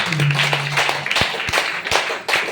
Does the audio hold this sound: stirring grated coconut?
no